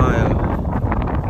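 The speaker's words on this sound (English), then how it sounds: "Got a lot of wind." Strong wind buffeting a microphone outdoors in a Central Texas ryegrass field, a loud, continuous low rumbling roar with gusty fluctuations filling the whole brief moment.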